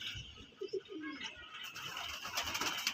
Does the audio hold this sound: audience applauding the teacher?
no